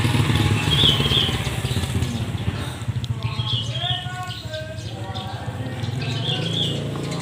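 A motorcycle engine passes nearby outdoors, rising and fading over a few seconds, with birds chirping in the background and a low steady rumble throughout.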